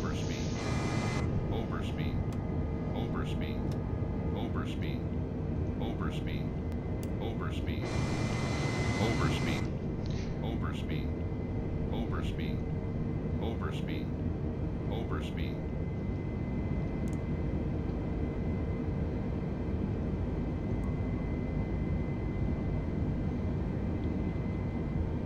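A steady aircraft engine drone in Microsoft Flight Simulator, continuous and fairly loud throughout, with a voice talking over it and short repeated beeping alerts in the cockpit.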